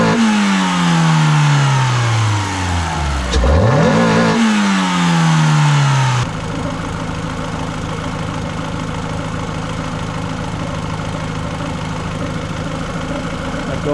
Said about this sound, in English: a little bit of the exhaust we've been blowing out then. I hit top RPM